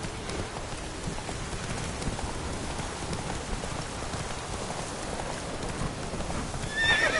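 In The Witcher 3 video game, a horse clip-clops steadily through continuous rain and lets out a whinny near the end, with rainfall filling the background throughout.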